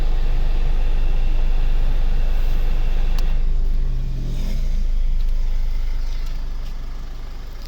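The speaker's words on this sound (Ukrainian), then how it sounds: "Глухо, еластично працює двигун." Idling 2010 Nissan Qashqai with a 2.0 dCi diesel engine and automatic gearbox, a steady low hum recorded close up with faint clicks and rustles on top and no speech.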